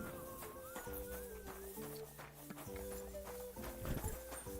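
Horse hooves clip-clop at a steady walking rhythm in the game Kingdom Come: Deliverance II, close by, with sustained musical tones playing underneath.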